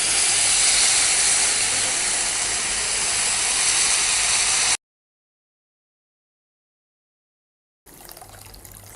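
Water poured into fried onion-tomato masala with Kolhapuri onion-garlic chutney for egg curry, a loud close rushing pour that lasts several seconds, then silence, then a quieter return of the sound.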